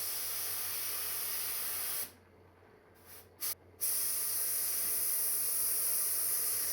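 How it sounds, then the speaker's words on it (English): A spray gun gives a quick test burst of white paint during a Triumph TR6 refinish: two short, close hissing puffs that cut through a steady loud background hiss, no voices. "Now just doing a quick test spray."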